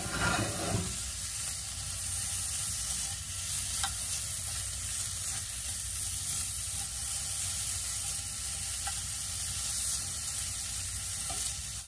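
Beef sizzling steadily in a frying pan, a dense continuous hiss and crackle close up with occasional stirring, no talking.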